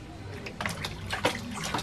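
Water trickling and splashing during a young child's bath, a run of soft irregular drips and small splashes at close range, with faint voices in the background.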